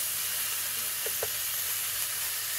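Japanese spinach cooking in a pan without oil, a constant soft sizzle and hiss close by, with a couple of faint low knocks partway through.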